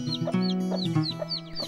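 Free-range village chickens on a farm raising superior native chickens cluck steadily in quick, repeated calls, close and clear, with several birds overlapping and no talking.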